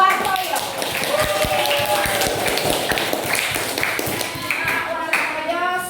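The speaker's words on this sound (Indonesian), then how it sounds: "Tepuk tangan untuk Pak Wartoyo." An audience claps for a teacher candidate at a junior high school in Klaten, a dense, steady patter of many hands lasting throughout, with voices mixed in.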